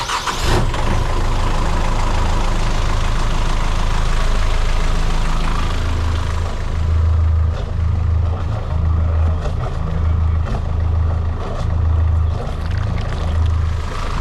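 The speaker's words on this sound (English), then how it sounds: "we're back in the starboard engine" A boat's starboard diesel engine idles loudly and steadily close by, with a low rhythmic throb that pulses evenly throughout.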